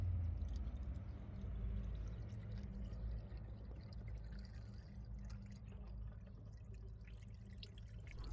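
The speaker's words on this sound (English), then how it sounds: "The clean water flowing through the system clears the sludge quite efficiently" Clean water poured into a car radiator during a head gasket repair runs out through the engine block: a faint, continuous trickle and dripping under a low background rumble, with no voices.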